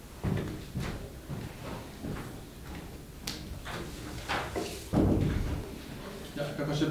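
An indoor door is pushed shut in a room where people are talking, giving a couple of dull thuds, with one firmer knock near the end.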